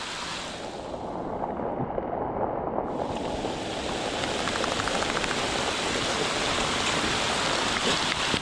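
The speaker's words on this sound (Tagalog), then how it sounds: "Lakas po ng ulan." Heavy rain pours down steadily during a flood, a dense, even hiss of falling water close by with no voices.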